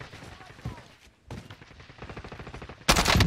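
Gunfire in the video game Call of Duty Warzone: scattered single shots and bursts at moderate level, building to a loud sustained burst at the end, with someone talking over the action.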